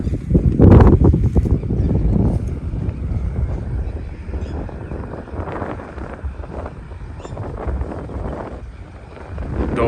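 A tractor pulls a disc harrow through a farm field, its engine a steady low rumble, with gusts of wind buffeting the microphone and occasional faint voices.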